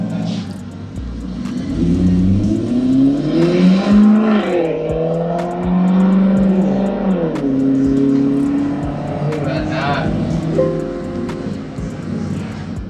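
Ferrari 458 engine revving loudly and up close ahead of an autocross event, its pitch sweeping up and down through several throttle blips over a continuous rumbling idle, with no talk.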